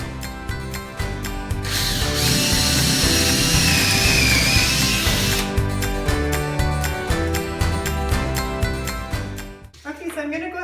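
A power driver whirs and clicks rapidly as screws are driven into a wooden entry bench, the ratcheting chatter steady and close, pausing briefly near the end.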